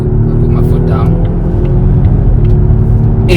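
A 2024 Volvo XC60 T8 Recharge plug-in hybrid pulling hard from inside the cabin, a loud, steady low engine and road rumble that swells slightly, with a voice talking over it.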